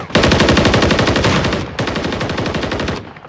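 Sustained automatic gunfire in Modern Warfare 3 Warzone, two long rapid bursts of close, loud shots with a brief gap just before the two-second mark, no voices.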